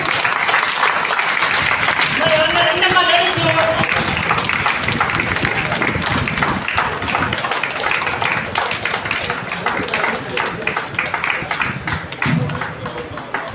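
A hall audience claps steadily at a felicitation during a paramedical welfare association gathering, dense applause lasting throughout while a voice talks over it.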